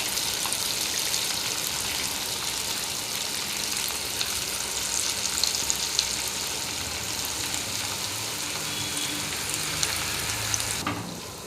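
Chicken pakoda pieces deep-fry in a pan of oil, village style, giving a loud, dense, continuous bubbling sizzle that runs unbroken until it drops away abruptly near the end.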